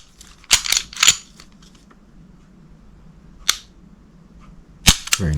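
The trigger of a Sig Sauer M11-A1 pistol is pulled and reset close up. It makes crisp mechanical clicks: a quick cluster of snaps, then a single click, then another sharp snap and rattle, with faint handling noise in between.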